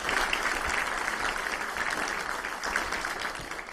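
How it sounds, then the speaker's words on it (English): Sustained applause from a conference audience at a European startup event, steady and fairly loud across the whole stretch with no talk over it. "I want to give a round of applause to Laura and Adam"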